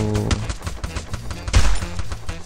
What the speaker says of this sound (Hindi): कुछ गोली चलने की आवाज और आ रही है